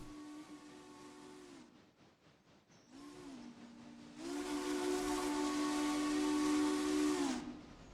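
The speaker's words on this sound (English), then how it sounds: "get some of that whistle action" A steam locomotive whistle in the railway game Railroader, sounding a short blast, pausing, then a longer, louder sustained blast that cuts off sharply, with a faint hiss between.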